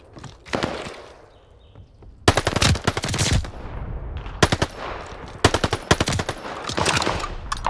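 Sniper rifle gunshots in Call of Duty Vanguard arrive as bursts of sharp, loud reports with quick rattling echoes, spread across several seconds amid game ambience.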